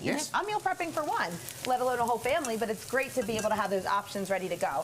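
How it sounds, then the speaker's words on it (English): Food sizzling in a frying pan during home meal prep, a soft hiss running underneath a person's continuous talking. "So you can hear that sizzle right now."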